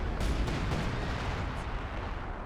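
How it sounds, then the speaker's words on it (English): Artillery strike in the Company of Heroes 2 video game during a 4v4 battle on Port of Hamburg: a dense, continuous roar of rumbling explosions and crackling impacts, loud and unbroken throughout. "Artillery strike coming on in."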